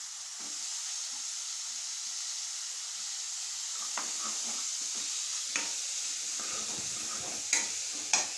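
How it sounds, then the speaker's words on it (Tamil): Chopped tomato and chillies frying in a nonstick pan with a little oil, a steady soft sizzle with occasional sharper crackles and stirring clicks toward the end, close and without talk. "இப்போ நறுக்கிய தக்காளி, மிளகாய் எல்லாத்தையுமே நம்ம போட்டுடணும்."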